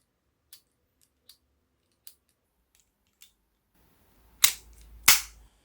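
Caps fired in a Mulifang S&W M36 toy revolver: two sharp, loud close cracks, each trailed by a short decay, after several faint clicks of the hammer and cylinder.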